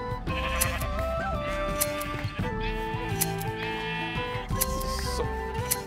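Sheep in the Minecraft video game bleating repeatedly over one another, sustained overlapping calls mixed with game sounds and background music.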